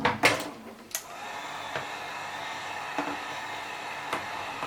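Heat gun blowing hot air onto a dirt bike decal, a steady close airy whoosh with a few sharp knocks and handling clicks at the start and scattered faint taps throughout.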